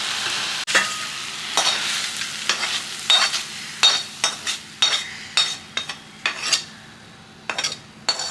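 Ingredients sautéing in a pan for a home cold-and-cough remedy curry, close stirring with a run of crisp metallic scrapes and clinks of a spoon over a soft sizzle.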